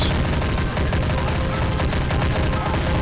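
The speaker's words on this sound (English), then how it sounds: "But there's a good exchange of fire right there" A loud, dense exchange of gunfire rattles on without pause in the Army Men of War video game, overlapping rifle and machine-gun bursts forming a steady roar of battle with no voices.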